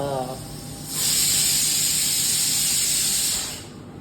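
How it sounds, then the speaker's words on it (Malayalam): A loud, steady hiss of steam bursts from a pressure cooker whistle after a brief murmur, holding strong for a few seconds before tapering off. "കുക്കറിൻ്റെ വിസിൽ അടിയുന്നുണ്ട്"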